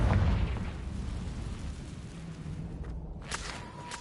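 A Confringo fire spell bursts in Hogwarts Legacy, a loud low boom at the start that rumbles and fades, followed by lighter crackling and a sharp pop near the end.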